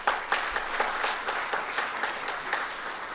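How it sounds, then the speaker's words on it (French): Applause from an audience at a school gathering, a steady wash of clapping with rhythmic bursts, moderately quiet and continuous, with no one speaking over it. "Et je vous demande de lui applaudir fortement."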